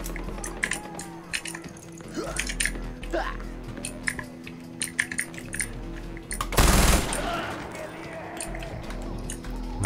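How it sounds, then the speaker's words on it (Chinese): Gunfire while running in the video game Far Cry 4: quick, sharp shot bursts scattered throughout with one heavier blast near the end, mixed with players' voices talking over it. "你要边跑边开枪啊！"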